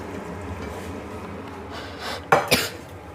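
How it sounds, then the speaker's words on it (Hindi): Paneer being cut into thick cubes with a knife on a board in a kitchen, heard as a few sharp knocks and clatters close by near the end, otherwise quiet. "थोड़ा मोटा ही काटेगा पनीर को।"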